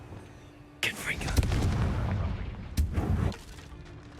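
A Confringo fire spell blast in Hogwarts Legacy erupts suddenly as a loud whooshing boom, then rumbles and crackles for a couple of seconds before a second sharp burst and a fade.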